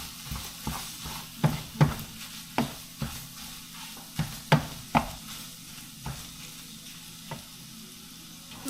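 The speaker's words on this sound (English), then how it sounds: "going to turn my pan on and put some butter in here" Butter melting and sizzling in a frying pan for breakfast eggs, a low steady fizz punctuated by a dozen sharp clacks of a utensil against the pan at irregular intervals, close and without speech.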